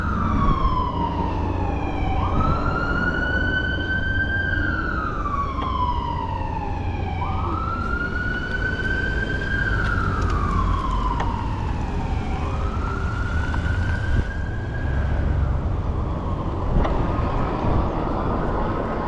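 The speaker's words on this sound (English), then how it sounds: "Let's let this ambulance get by." A loud siren wails in long rising and falling sweeps, repeating steadily as an ambulance passes close by an e-bike rider over constant traffic rumble.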